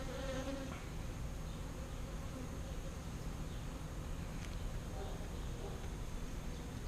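Honeybees buzz steadily around an open hive as newly emerging young bees come out, a dense continuous drone close by with soft voices murmuring in the background.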